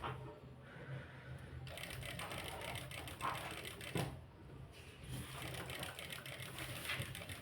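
A sewing machine stitches around the corners of a blouse sleeve with quiet, steady mechanical ticking. Brief pauses and small bumps mark the turns at each corner, and the whole sound stays faint and close.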